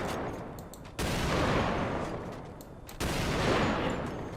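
Two heavy sniper rifle shots ring out in the FiveM game, each a sudden loud blast followed by a long, roaring echo that fades before the next.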